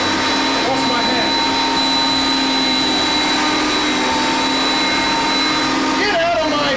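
A vacuum cleaner runs loud and constant, a steady high motor whine with a bright tonal hum close by throughout, shifting briefly near the end.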